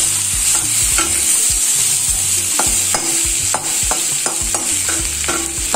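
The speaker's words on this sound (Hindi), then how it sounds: "करीब इसको 5 मिनट तक" Shahi paneer masala frying in a pan, stirred with repeated scraping strokes over a steady close sizzle.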